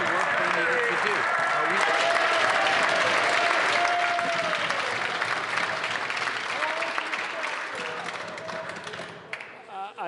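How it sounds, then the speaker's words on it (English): Loud, sustained applause from legislators filling a parliamentary chamber, steady across the whole stretch, with a murmur of voices under it before it tapers off at the end. "They were applauding so much for his answer"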